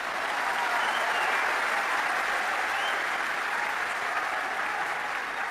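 Sustained applause from an audience at an Islamic talk in Oman, a steady even wash of many clapping hands lasting throughout, moderately distant and without pauses.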